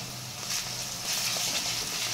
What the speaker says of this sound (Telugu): నూనెలో బాగా వేగనివ్వాలి.